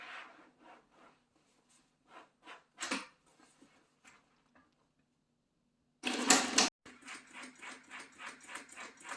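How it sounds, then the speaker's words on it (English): A sewing machine stitches lines into car carpet for a 1932 Ford 3 Window Coupe: quick rhythmic needle pulses, a brief pause, a loud dense burst, then steady close stitching to the end. "she's just going to sew a couple lines here"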